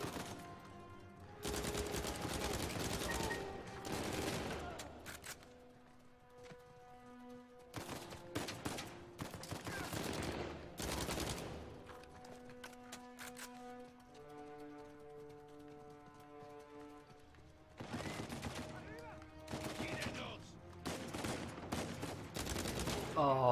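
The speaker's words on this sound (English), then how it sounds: "Oh shit, I'm shooting my own guy." Video game gunfire in Uncharted 4, loud bursts of rapid automatic shots in several long volleys separated by brief lulls, with tonal game sounds in between.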